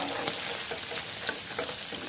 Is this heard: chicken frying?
yes